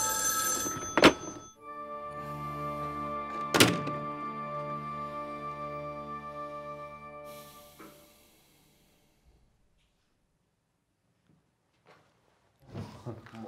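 A telephone rings in a home during a family argument in a Chinese TV drama, one long sustained electronic ring broken by two sharp thumps, then it cuts off into near silence before faint sounds return at the end.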